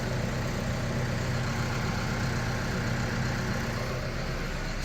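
A heavy tractor engine idles steadily on a weighing scale, a low, even rumble that holds constant and close throughout, with no talking.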